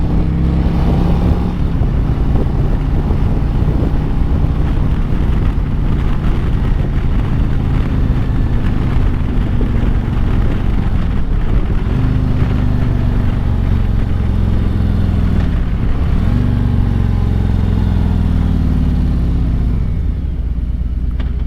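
A Harley-Davidson Road Glide motorcycle engine drones loud and close while riding, a deep steady rumble with slow rising and falling pitch as the rider shifts through the gears, with constant wind noise and no talking.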